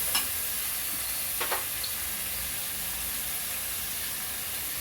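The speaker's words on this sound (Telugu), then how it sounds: "చికెన్ వేసుకున్నాం కదండి, ఒకసారి కలుపుకుందాం." Chicken frying in oil in a pan for a gravy curry gives a steady, broadband sizzling hiss. Two or three brief stirring scrapes come early, and no one speaks.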